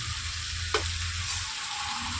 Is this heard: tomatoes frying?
yes